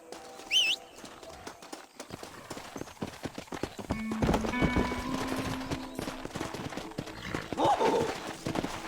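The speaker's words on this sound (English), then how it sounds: "Horses are over here!" Horse hooves clip-clopping in the western video game Red Dead Redemption, a steady rhythm of hoofbeats that grows louder and busier partway through, with a brief high call near the start and no voices.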